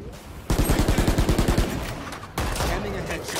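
Gunfire in an online shooter game, a rapid automatic burst of about a dozen loud close shots, followed by a second heavy blast and a sustained roar.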